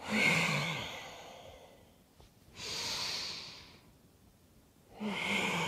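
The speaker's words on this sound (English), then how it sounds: "So you're like your bellows, like our fire breath, but much kind of slower." Slow bellows-style yoga breathing, a gentle version of fire breath: three long, close, forceful nasal breaths, each a steady rushing whoosh lasting about a second or more, with quiet gaps between them.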